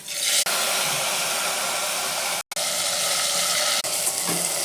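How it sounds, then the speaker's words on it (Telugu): Rice and asafoetida fry in hot oil with a loud, steady, broadband sizzle that holds almost without a break, dipping briefly once midway, close and without voices. "కొంచెం ఇంగువ, రైస్ వేయాలి, బాగా కొంచెం సేపు ఫ్రై చేసుకుందాం"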